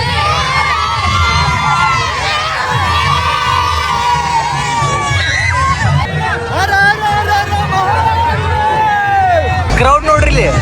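A dense festival crowd fills the Bhairikoppa temple fair in Hubballi, where people gather for the chariot procession. Continuous loud babble and shouting carry on throughout, with children's voices and cheers rising above the steady roar.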